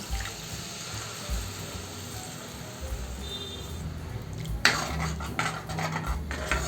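A spoon stirs water into a tomato curry in a pan at a home kitchen, giving soft scraping and sloshing, then sharper metallic clinks of utensil against the pan near the end, all fairly quiet and without talk.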